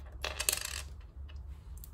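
Coins clatter out of a Louis Vuitton monogram key pouch, a quick jingling burst of metal pieces landing near and loud, then a few lighter clinks trailing off, with no voices.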